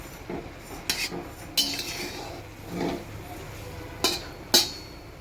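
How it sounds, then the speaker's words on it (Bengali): Leafy greens are turned over in a wok with a metal utensil, giving several sharp scraping clanks spaced unevenly over a soft, low background hiss. "শাকটা প্রায় সিদ্ধ হয়ে আসছে, তাই একটু উল্টে পাল্টে দিচ্ছি"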